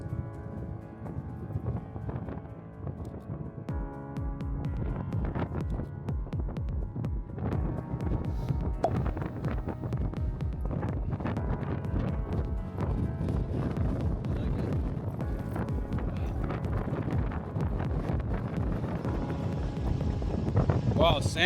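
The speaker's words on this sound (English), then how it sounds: "It's hard to keep balance in the strong wind, but we keep trying to shoot." Strong gusty wind at a beach buffeting the microphone in a constant heavy rumble and roar, with flutters and bursts lasting throughout and no clear voices.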